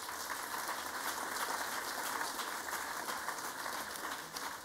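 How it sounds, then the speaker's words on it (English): Steady applause from a gala audience, many hands clapping in a continuous, even roar that holds level throughout without any voices. "So let's give them a round of applause."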